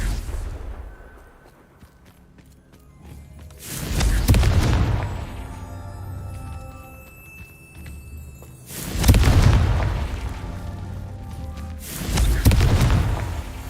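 Confringo blasting-spell explosions in Hogwarts Legacy land as three heavy booming blasts spaced several seconds apart, each with a rumbling tail, over a quieter ambient game soundscape.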